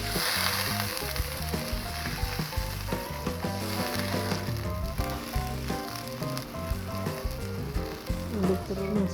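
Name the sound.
water added to sizzling semur jengkol pan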